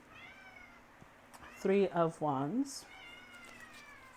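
A house cat meows three times in quick succession, loud and close, breaking into a tarot card reading; someone speaks briefly before and the room is otherwise quiet.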